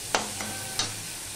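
Spice paste for katla fish curry cooks in oil in a pan, giving a soft continuous sizzle broken by a few short scraping stirs, close and moderately quiet.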